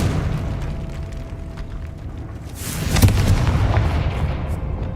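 Confringo blasting spell from Hogwarts Legacy detonating partway through, a sharp booming burst with rumbling tail over a low steady game ambience.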